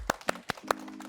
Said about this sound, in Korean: 편하게 두 곡을 큰 박수로 모시겠습니다